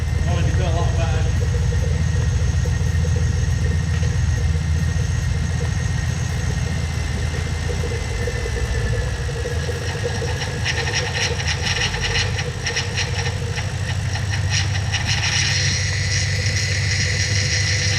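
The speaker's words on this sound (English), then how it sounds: "So we can hear the pump all gurgling away." A BMW 645Ci runs at idle with its power steering pump gurgling and whining as fluid is poured in, a steady engine drone with a faint squeal and rougher fluid noise building later.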